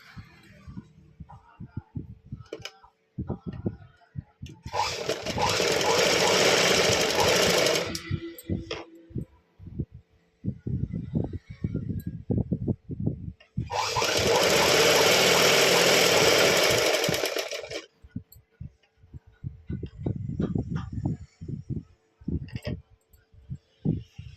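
A sewing machine stitches a folded edge on a lehenga top in two loud, steady bursts of rapid whirring, separated by quieter handling clatter and rustling of fabric.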